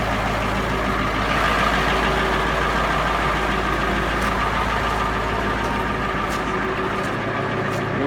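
A Ford SuperDuty rollback tow truck idles with its PTO engaged, a steady loud low diesel rumble and hum holding evenly from start to finish, no talking.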